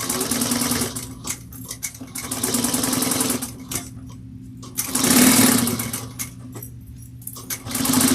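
A sewing machine stitches a zipper panel for a bowler-style bag, running close and steady in several bursts of whirring, rapid needle chatter separated by brief pauses, with no voices.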